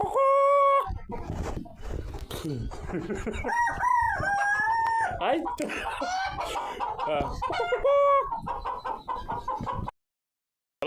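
Hens cluck loudly and constantly while a rooster crows over them, a dense, close farmyard clamor that cuts off abruptly near the end.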